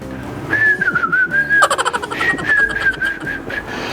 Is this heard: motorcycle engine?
no